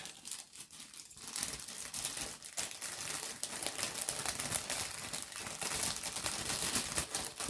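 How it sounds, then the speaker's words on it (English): Crinkling and rustling of a plastic resealable bag holding model kit sprues for a Dak Tiger 1 tank, close and continuous with irregular crackles, no voices. "Pop that back in its resealable bag as well."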